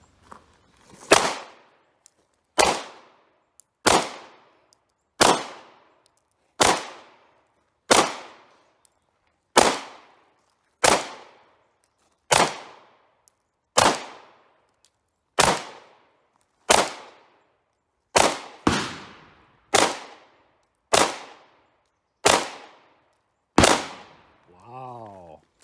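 A brand new Glock 45 pistol fired at a shooting range, about sixteen sharp, loud shots spaced a second or two apart, each followed by a short decaying echo.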